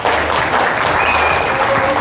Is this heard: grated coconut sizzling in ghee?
no